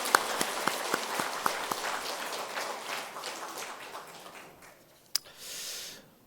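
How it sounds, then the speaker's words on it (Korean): A church congregation claps for the children, a dense burst of applause with a few sharper claps that gradually thins and fades away, ending with a lone knock and a faint rustle. "우리 어린이들 위해서 한 번 더 박수하겠습니다"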